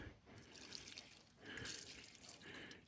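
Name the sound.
fuel being poured into engine breather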